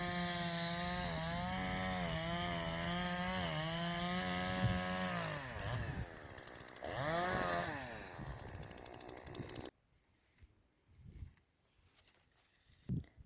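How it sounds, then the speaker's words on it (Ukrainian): A chainsaw runs loud and steady, its engine pitch dipping and rising as it bites into wood, then cuts off, leaving quieter scattered sounds. "ретельно оглядає і те, що не потрібно, зрізає бензопилою"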